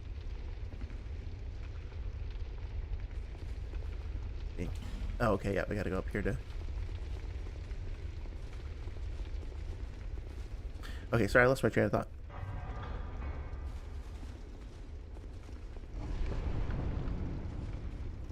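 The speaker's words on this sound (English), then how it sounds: "Sounds like something's rumbling. What is that? Oh, it's just the fires." Low continuous rumbling of fires in Dark Souls 2, a steady deep roar under someone talking, with a few louder crackling bursts in between.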